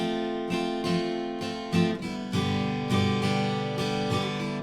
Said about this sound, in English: the strumming pattern that you can also use in the song sounds like this